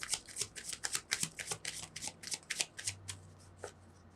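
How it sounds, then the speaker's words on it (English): Cards shuffled for a yes-or-no pick-a-card tarot reading, a rapid run of crisp riffling and flicking bursts, close and fairly quiet, with a low hum underneath and no talking. "I feel like I didn't shuffle enough"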